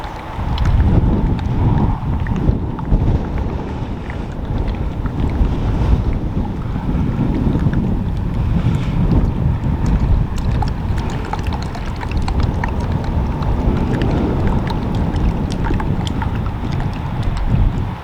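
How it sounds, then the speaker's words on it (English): Strong wind blowing across a lakeside, a loud continuous rushing roar buffeting the microphone without pause, with no voices present. "It is quite breezy out there today"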